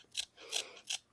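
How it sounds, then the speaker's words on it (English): Three crisp scissor snips in even rhythm, close up and quiet, each a short metallic shearing crunch. "We're gonna use scissors"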